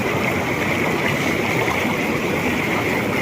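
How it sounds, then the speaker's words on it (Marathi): Fast, heavy water rushes in a stream at Karav dam near Vangani, a dense, continuous close roar with no pauses or voices. "पाण्याचा फ्लो मित्रांनो जास्त आहे."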